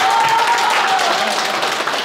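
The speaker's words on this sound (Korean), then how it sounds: "자 큰 박수로" Applause from a crowd at a graduation exam gathering for a study class, a steady dense wash of clapping filling the whole stretch, with a faint voice briefly audible over it.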